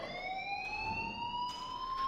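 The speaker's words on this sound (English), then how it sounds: "please turn off that alarm since that's your job" A fire alarm in the video game Life Is Strange sounds as a steady rising electronic tone with bright harmonics, continuous and fairly loud throughout, with no voices over it.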